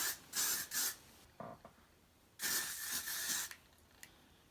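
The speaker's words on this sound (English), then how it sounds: "Add some spray." Hair spray misted onto a wig during styling, several short aerosol bursts of hiss, some brief and some sustained, close and fairly loud, with quiet gaps between them.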